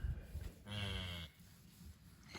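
A cow named Sparkles lows beside her newborn calf, giving one drawn-out, quiet moo that carries from some distance over a faint outdoor background.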